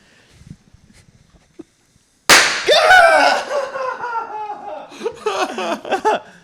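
Firecracker exploding indoors in a studio: a sudden loud bang after near silence, followed by ringing and excited voices and laughter that carry on for several seconds.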